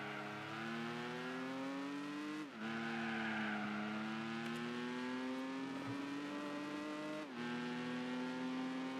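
Nissan GTR engine droning steadily while driving in the video game Gran Turismo 4, a strong harmonic whine that climbs with each gear and drops sharply at two upshifts, loud and alone.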